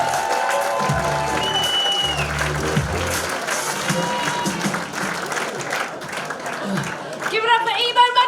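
A comedy show audience at the Australian Comedian of the Year finals claps and cheers in a sustained wave of applause, with a host's voice calling out over it near the end.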